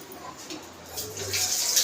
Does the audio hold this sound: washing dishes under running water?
yes